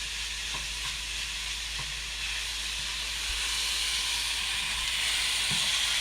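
Chopped onion frying in a very hot pan for a healthy Chinese-style dish, giving a steady broadband sizzle and hiss throughout, with a few faint clicks of stirring and no voices.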